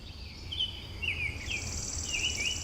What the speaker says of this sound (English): this time by the birds.